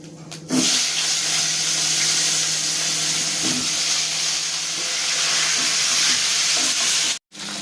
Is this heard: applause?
no